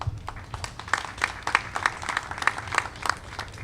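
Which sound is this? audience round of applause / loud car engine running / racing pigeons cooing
audience round of applause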